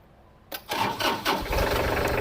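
A 34 hp Kubota tractor from 2009 cranks briefly and fires up, its engine catching after about half a second and settling into a loud, steady idle close by.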